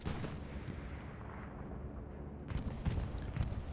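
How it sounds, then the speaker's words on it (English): Muffled distant gunfire fired down a road into smoke in a World War II style shooter game on the Foy map, low rumbling reports rolling under a steady battle din, a few louder thuds near the end, no talking. "He's just firing right down that road into the smoke"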